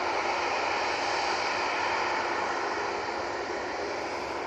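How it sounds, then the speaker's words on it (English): An EasyJet airliner on short final into Manchester Airport, arriving from Faro, gives a steady, loud broadband engine roar that holds evenly throughout with no voices. "On short final now, we do have the EasyJet coming in from Faro"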